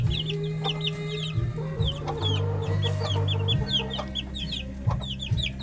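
Eight newly hatched Hatch-Gilmore bloodline chicks cheep in a busy, overlapping chorus of high, rapid peeps. A low steady hum and a few deeper clucking sounds run underneath.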